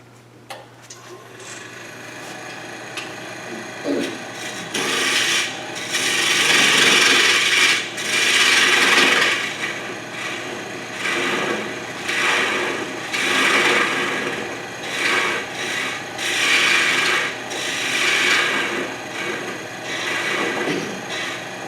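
A wood-turning tool chatters against a scoop being turned on two axes: loud, rough, buzzing rasps that swell and fade in repeated bursts over a low, constant machine hum.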